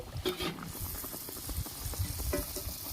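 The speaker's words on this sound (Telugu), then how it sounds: "అరిసెలు ఆయిల్ వేస్తున్నామండి ఒక అరిసి తేలిన తర్వాత ఇంకో అరిసి వేసుకోవాలి" Village-style jaggery ariselu rice sweets fry in hot oil, giving a close, steady bubbling sizzle with small crackles and occasional liquid stirring sounds.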